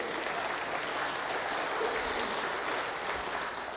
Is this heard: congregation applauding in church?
yes